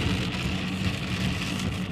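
Heavy rain pours down without letup, a dense, steady hiss and patter close by with no talking.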